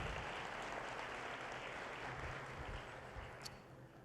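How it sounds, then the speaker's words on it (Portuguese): A church congregation claps during a sermon, a soft, distant wash of applause that thins out toward the end, heard alone without voices. "Podemos aplaudir a Deus."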